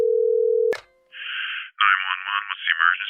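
A steady telephone dial tone cut off by a click, then a series of electronic beeps and tones as a phone number is keyed in, loud and close.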